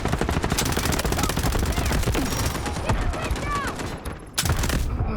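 Rapid, continuous automatic fire from a P90 in the mobile shooter game Delta Force rattles loudly and almost without pause. A player speaks over it, and a short lull near the end is followed by another burst.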